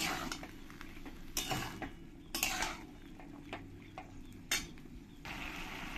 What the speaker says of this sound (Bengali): দিয়ে ভালো করে আমি মশলার সঙ্গে মিশিয়ে নেব